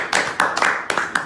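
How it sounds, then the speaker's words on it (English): Several bursts of hand clapping from an audience at a Nigerian political fundraiser event, scattered and uneven rather than a sustained ovation, fairly close. "Why are you guys not clapping?"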